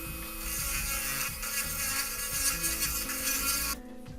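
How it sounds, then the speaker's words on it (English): A small drill bores out a solid chunk of plastic on a Bandai 1/1000 scale Space Battleship Yamato 2202 model kit, a steady buzzing, grinding whir that runs continuously and close up before cutting off near the end. "we've got a solid bit of plastic there. We need to drill that out. So I'm just going to roughly drill it out."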